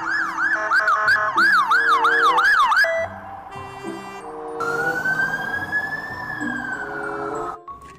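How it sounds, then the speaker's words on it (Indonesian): A toy fire truck's electronic siren wails loudly up close, first in a fast, repeating warble, then switching to shifting, sustained tones, with no voices. "Wadidaw, mobil pemadam kebakaran."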